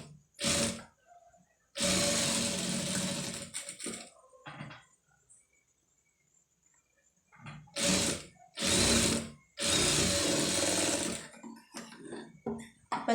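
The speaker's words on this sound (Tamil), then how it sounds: "அதை வந்து அப்படியே வந்து தையல் போட்டுருங்க" A sewing machine stitches a neck design on cloth, running close and loud in several bursts of a few seconds each, with quiet pauses and a few short mechanical clicks between runs.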